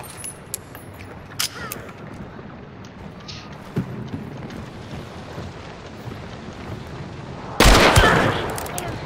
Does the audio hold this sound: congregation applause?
no